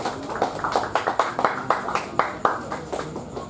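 A small audience at an evening youth discussion event claps in a sparse, uneven round of applause, with individual hand claps clearly audible at moderate distance.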